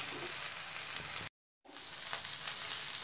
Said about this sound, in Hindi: इसको अच्छा से भून लेना है, हल्का हल्का, फ्लेम को थोड़ा कम करके रखेंगे।